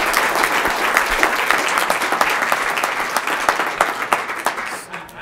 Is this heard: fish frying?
no